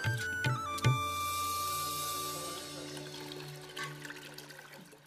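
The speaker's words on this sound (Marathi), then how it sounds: "आता या कळशीतले पाणी या घंगाळात होता" Steady stream of water poured from a pitcher into a metal basin, continuous and fairly close, with a few clanks of the vessel at the start and tapering near the end.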